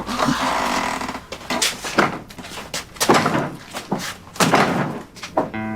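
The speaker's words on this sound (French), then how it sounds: "il y a aussi là, la porte du balcon. Elle ferme mal." A balcony door in an apartment that closes badly, banging and scraping through several rough knocks and thuds over a few seconds, fairly loud and close.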